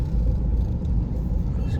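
City road traffic at the entrance to Dwarka, a close, low rumble of passing vehicles and engines that continues steadily without pause.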